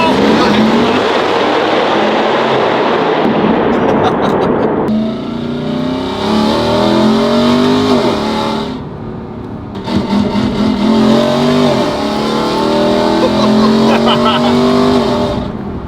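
Ram TRX truck with Valvetronic Designs mufflers launching in a tunnel, its loud V8 roar echoing through a long acceleration, a brief gear change, then a second hard pull.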